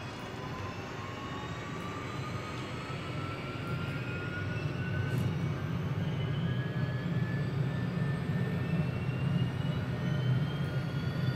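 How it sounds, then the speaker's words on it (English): A Mini 500 helicopter engine in Microsoft Flight Simulator winds up steadily, a rising turbine whine over a growing low rumble that gets louder throughout. "I'm going to quick start the helicopter so we can get on our way."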